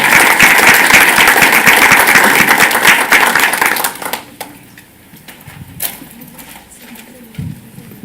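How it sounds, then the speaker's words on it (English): A board of education meeting audience applauds student winners and their coaches: loud, dense clapping for about four seconds, then it drops off quickly to a few scattered claps and room noise. "How about one more round of applause for these students and their coaches?"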